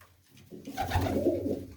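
A pigeon's low, throaty coo rolls out close by, a single soft burbling call rising and fading in under two seconds.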